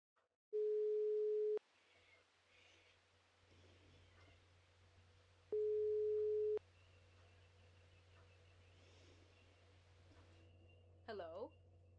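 Telephone dial tone heard from a newsroom phone in the Wild East detective video game: two steady, loud one-second tones separated by a quieter stretch of low hum, with a brief chirp near the end.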